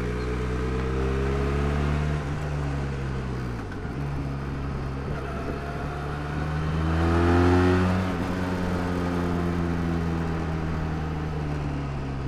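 A car engine accelerates and revs from inside the moving vehicle, a steady droning hum that dips around the middle and then swells with rising pitch before settling into a sustained cruise.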